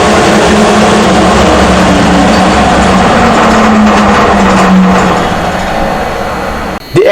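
Centrifugal blower with a forward-curved vane runs on a test rig with a steady, loud whirring drone and a faint tonal hum, then cuts off abruptly with a brief knock at the end.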